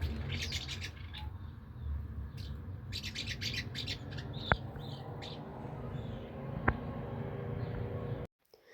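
House martins calling from a nest on a residential balcony, a steady chorus of small chirps and twitters close by over constant background noise, with two sharp brief clicks.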